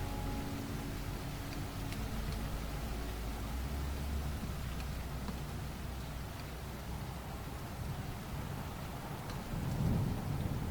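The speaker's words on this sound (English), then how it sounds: "Rainfall and thunderstorms." Rainfall and thunder within a song: an unbroken hiss of rain over a deep, rolling thunder rumble that swells slightly near the end, with no voices.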